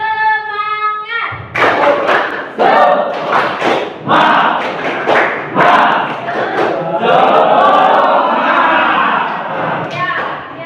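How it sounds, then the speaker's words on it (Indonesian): A classroom of standing students performs a rhythmic spirit clap, loud claps and thumps in a patterned sequence with chanted voices, after a brief sung tone at the start. "Tepuk semangat."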